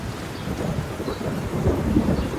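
Rain pours steadily while deep thunder rolls underneath, building toward the end; no one speaks.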